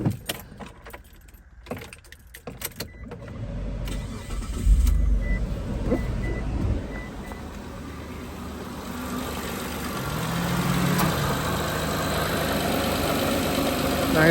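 A 2007 Mitsubishi Galant Ralliart engine with an upgraded intake cranks and catches after some rattling and clinking, then settles into a steady, low, even idle that holds to the end.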